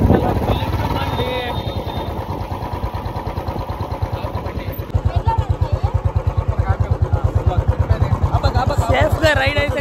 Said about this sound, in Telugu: Royal Enfield doubles. Bullet Bandi black colour bullet Bandi.